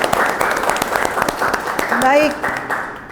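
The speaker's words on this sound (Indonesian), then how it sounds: "semuanya kita tepuk tangan untuk kita semuanya untuk hari ini" Audience applause closing a university teaching session, a group of students clapping steadily while someone speaks briefly over the clapping.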